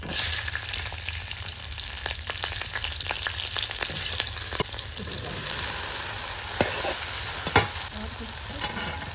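Green chilies and panch phoron frying in hot oil, a steady dense sizzle with scattered pops and crackles and occasional sharper spits, close and continuous with no talking.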